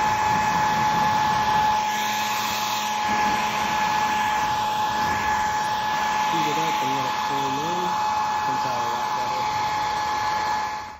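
A heat gun warms a graphics decal on a 2006 Honda CR250 dirt bike, giving a steady loud electric blowing whine with a high tonal hum throughout, while a person talks over it.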